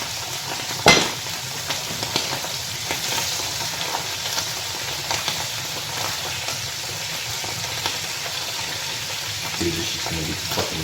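Trout frying in butter in a pan, a steady crackling sizzle throughout with a sharp knock near the start and scattered stirring noises, faint low background hum.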